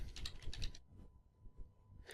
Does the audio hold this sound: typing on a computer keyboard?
yes